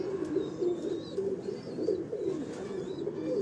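Pigeons on a rooftop loft in Lahore coo in soft, repeated low rolls, several birds murmuring steadily at moderate distance, with faint higher chirps now and then.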